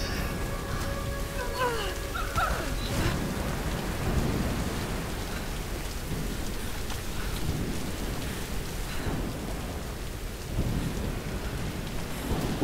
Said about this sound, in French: Ouh, la tempête se lève.